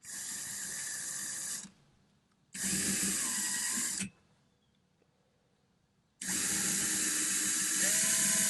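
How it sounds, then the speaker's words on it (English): A power drill whirs in three bursts, drilling out a hole while installing an RV black tank rinser, each running a second or two with pauses of quiet between, close and loud. "so I'll drill the middle out for the hole."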